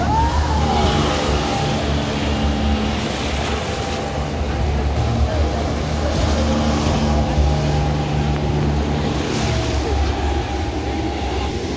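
A speedboat engine at Green Valley Park in Lalpur, Natore, drones loud and steady for the whole stretch, with a low rumbling hum and no pauses.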